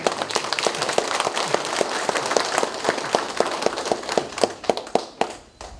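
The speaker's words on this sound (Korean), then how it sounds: "박창극 원장님 힘돋아 주시기 위해서 박수를 한번 보내주시면 감사합니다" Audience applause at the opening ceremony of the Yeongju Korea Filial Piety Culture Promotion Institute, a dense patter of many hands clapping steadily, with louder distinct claps standing out toward the end as it thins.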